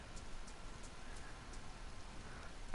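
Rain falls steadily in DayZ, a soft, even hiss of drops with faint scattered ticks, quiet and continuous throughout.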